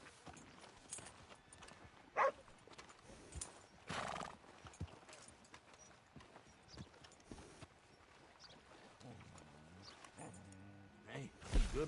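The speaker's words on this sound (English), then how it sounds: "Hey, good-looking horse there." Horse in Red Dead Redemption 2 whinnying and clip-clopping near a stable, faint hoof steps scattered through the clip with a few louder snorts and neighs, a dog barking somewhere nearby and voices talking.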